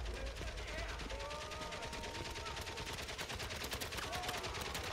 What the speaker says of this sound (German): Hast du da oben so viel Munition, dass du da einfach mal permanent hier runterschießen kannst, ohne auch nur irgendwas zu treffen?